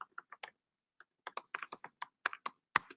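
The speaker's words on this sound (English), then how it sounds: "Let me type it here." Someone types a website address on a computer keyboard: sparse, crisp individual key taps, a few at first, a pause, then a quicker run of keystrokes, close and clear with no talking.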